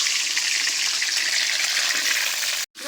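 Potatoes (new potatoes, cut with thin skins on) frying in hot oil give a steady, dense sizzle at close range, with no talk, before the sound briefly cuts out near the end.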